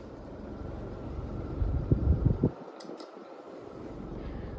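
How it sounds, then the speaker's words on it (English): Antique ceiling fan spinning on high at 340 RPM gives a steady, soft whooshing hum with a brief thumping disturbance midway, then settles back to an even drone. "get the full 340 RPMs. This is a powerful fan."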